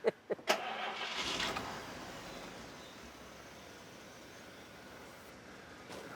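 A Barris Kustom car starting up: a few sharp clicks, then the engine cranks and catches in a brief loud burst before settling into a quieter low rumble.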